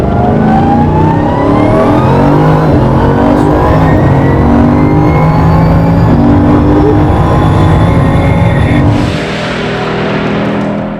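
A car accelerates hard on a track, its engine loud and close throughout with rising whine, easing briefly near the end before pulling again.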